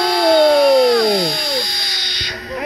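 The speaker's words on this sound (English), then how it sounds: "So this is a YUCCA power drill." A power drill spinning a yucca spindle for friction fire making, a loud whining motor with pitch sliding downward as it bogs under load, close and continuous, then winding down near the end with faint voices.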